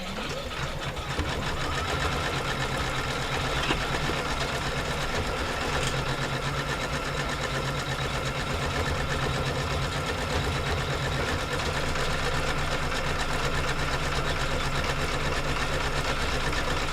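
An embroidery sewing machine stitches a lace design with a steady, continuous mechanical whir and rapid needle chatter, held at an even, fairly loud level throughout.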